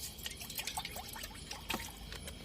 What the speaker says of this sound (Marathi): त्याच्यात मी पाणी टाकतोय